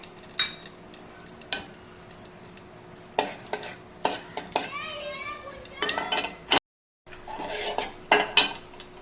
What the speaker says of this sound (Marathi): हे आपण घेतलेले दालचिनी, वेलची आणि लवंग परतून घेते